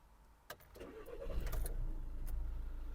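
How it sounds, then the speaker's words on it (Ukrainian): A Volkswagen Golf 6 with automatic transmission starts up: a short starter whirr, then the engine catches and settles into a steady, close idle with no talk. "Давайте запустимо двигун."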